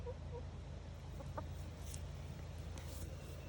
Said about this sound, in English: Free range chickens.